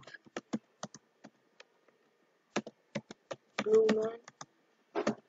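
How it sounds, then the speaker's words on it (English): Commands typed on a computer keyboard while setting up Bluetooth on a Raspberry Pi: irregular bursts of close, crisp key taps with short pauses, and a brief spoken murmur partway through. "So type these commands: sudo apt-get install"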